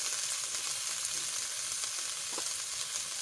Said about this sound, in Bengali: লাউ শাক আমি বসাই দিচ্ছি, রসুন তেলের পরে দিয়ে আমি বসাই দিচ্ছি